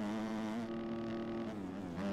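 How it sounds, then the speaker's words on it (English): A motocross bike in the MX Bikes game holds its engine at the rev limiter, a steady, buzzing, high-revving drone that stays loud and close throughout. "Rev limiter"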